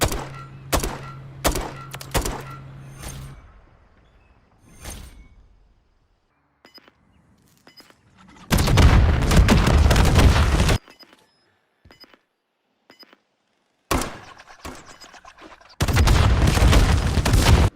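RGL grenade launcher rounds fire in Modern Warfare III, a series of hollow thunks followed by heavy, sustained explosive bursts, some spaced apart and loud, with quieter clicks between, no talking.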